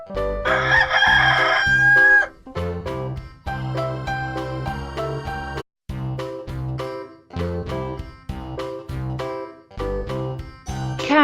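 A rooster crows loudly once near the start, followed by a brief high tinkling, all over a cheerful children's music track with a steady beat.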